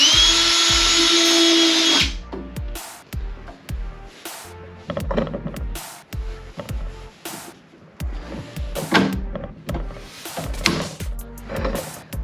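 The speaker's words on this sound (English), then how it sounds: "we got to do a little bit of drilling and riveting to get it over here" A power drill boring rivet holes during a Flowmaster Delta Force snorkel install on a Jeep JL: one sustained high whine for about two seconds, then a string of sharp clicks and clanks from handling tools and parts.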